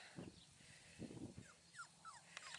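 A litter of young male puppies whimpers and squeaks softly, with a few thin, high cries and short yips scattered across the quiet moment, all faint and close by.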